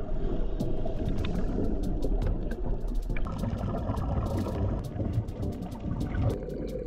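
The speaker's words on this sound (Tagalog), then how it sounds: "Hindi lalagpas sa 15 minutes ang biyahe ng bangka mula sa Torrijos papunta sa dive site natin." Small boat motoring from Torrijos, Marinduque out to a dive site, with a steady close engine drone and water noise running throughout, plus scattered clicks and splashes on top, no voices.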